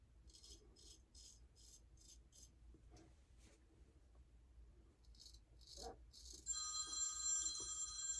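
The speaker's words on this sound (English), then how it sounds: "See, the phones are just going crazy." Several telephones ring in a busy shop. The rattling bursts repeat in a steady series and then overlap near the end. There is no talking.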